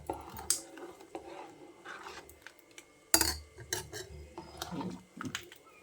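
A spoon scrapes and clinks against a pot while mixing freshly ground masala into a raw cucumber curry, with soft irregular clatter and a few sharper knocks close by, no talking.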